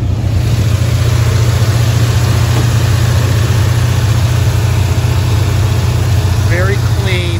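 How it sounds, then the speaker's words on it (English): A 1978 Chevrolet Corvette with a Wheeler-built 350 engine and an Edelbrock chrome kit idles with its hood up. The loud, close, deep rumble holds steady and even throughout, with no talking over it. "This is a Wheeler-built 350 motor."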